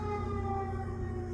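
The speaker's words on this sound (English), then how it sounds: "ambulance," A steady emergency siren wails continuously at a sustained, fairly loud level, heard alone with no talk over it.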